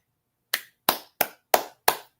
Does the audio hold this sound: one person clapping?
yes